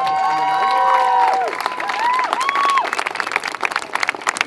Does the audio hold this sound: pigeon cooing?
no